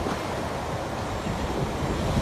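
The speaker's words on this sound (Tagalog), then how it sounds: "Ang lakas pa ng hangin," Strong wind with heavy rain roaring steadily against the microphone on a seaside boulevard in Dipolog City after a typhoon, a dense, constant rush with no voices.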